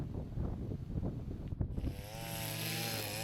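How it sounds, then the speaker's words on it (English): A Stihl FS 251 line trimmer with its guard off, cutting weeds along a field fence line: bursty, uneven engine noise at first, then a steady high-revving whine holding at full throttle, fairly close. "So I'm using the Stihl FS 251, the most powerful trimmer I got."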